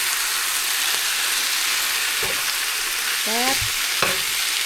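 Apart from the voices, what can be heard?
stirring squid stir-fry in a pan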